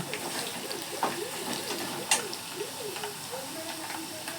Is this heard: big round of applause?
no